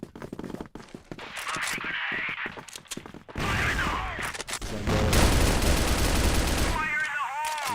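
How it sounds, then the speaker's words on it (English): Rapid automatic gunfire fills a competitive video game match, first as sparse cracks, then dense bursts that grow louder and more sustained, with a commentator talking over the action. "You see a lot of bullets through the boxes as they push forward."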